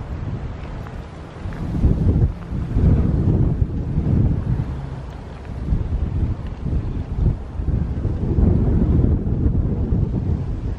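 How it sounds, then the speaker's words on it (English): Gusty wind buffets the microphone outdoors on a windy day in Topanga Canyon, loud low rumbling that surges and eases in waves, with no voices. "It's a bit of a windy day"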